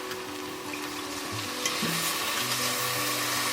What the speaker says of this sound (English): Okay, we're ready for some deglazing action